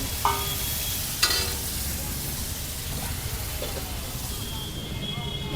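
Malai paneer bhurji cooks on a flat tawa griddle in desi ghee with milk and cream at a busy Amritsar food stall, giving a constant close sizzle with a couple of sharp metal scraping clanks early on.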